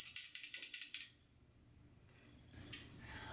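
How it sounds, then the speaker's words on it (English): A real bicycle bell rings in a rapid trill of bright metallic strikes for about a second, then fades into near silence before one more short, sharp ding. "there's a real bell in there."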